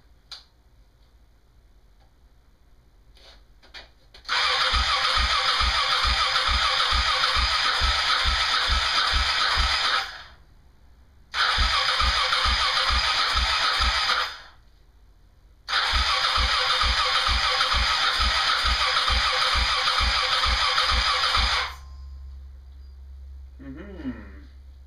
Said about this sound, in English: put enough fuel in those carbs that I can fire it up.